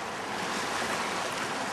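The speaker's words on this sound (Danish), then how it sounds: "wow, der kom vandet." Water surging in as a wave washes up at Lockhart Gorge, a steady broad rush of surf close by, with no voices over it.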